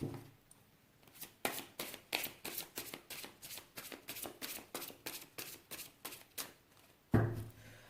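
Tarot cards are shuffled in a fast, steady run of crisp riffling flicks at close range and quiet level, ending with a single louder slap as the deck is cut, with no talking.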